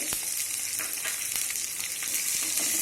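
Ginger and small shallots sauté in hot oil for a Kerala-style beef fry, giving a steady, close sizzle with occasional light scrapes of stirring throughout.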